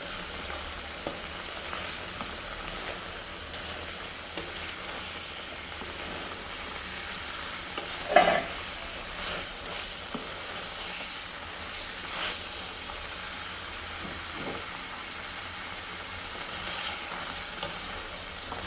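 Chicken pieces fry in a covered pan, giving a steady, moderate sizzle with soft crackles and one brief louder burst near the middle. There is no talking.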